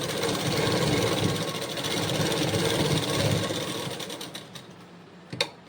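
A sewing machine runs a straight seam in one continuous, close whirring hum for about four seconds, then slows and stops with a couple of faint clicks.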